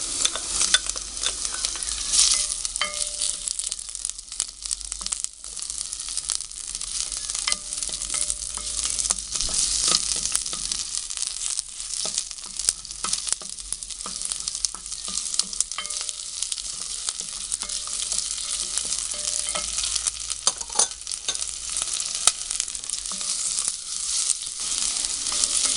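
Onion and ginger sauté in hot oil for Filipino chicken tinola, a steady close sizzle with scraping stirs and occasional clinks of a utensil against the pan, continuous throughout with no talking.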